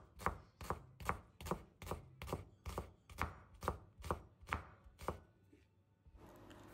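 Knife slicing an onion very thinly for a salad, about a dozen crisp, evenly spaced chops on a board in a steady rhythm, close and clear, ending with quiet background.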